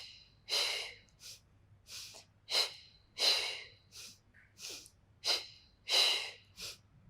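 Deep, audible breaths during a pilates workout, about ten distinct inhales and exhales in a steady, slow rhythm, close and fairly loud with quiet pauses between, alone with no talking.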